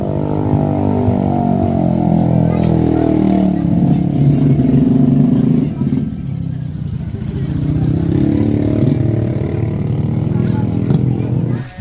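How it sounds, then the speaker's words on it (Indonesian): A Honda Astrea motorcycle rides past on a mountain trail. Its engine drone stays loud and close through most of the stretch, eases a little partway, then swells again before it cuts out at the end. "Motor Astrea."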